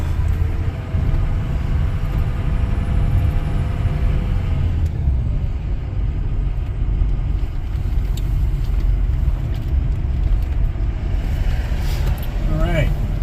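Kenworth truck engine rumbling steadily from inside the cab during a ride, a loud continuous low drone with road noise throughout and no talk.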